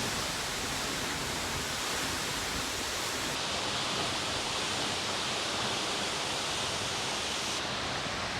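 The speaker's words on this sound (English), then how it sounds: "There's spray coming off the waterfall." Continuous roaring rush of a waterfall on Iceland's south coast, loud and unbroken throughout, with no voices.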